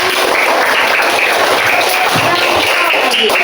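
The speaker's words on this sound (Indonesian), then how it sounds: "beri tepuk tangan dulu" A fourth-grade class applauds in a classroom during a science lesson, a steady, dense wash of clapping that holds evenly loud for the whole stretch with no clear talk over it.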